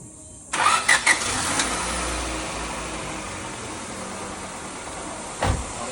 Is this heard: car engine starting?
yes